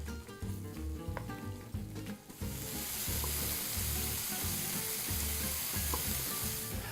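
Bell peppers cook in a pan, first with faint clattering and background music. Then, about three seconds in, a loud, steady sizzle of frying takes over and continues to the end.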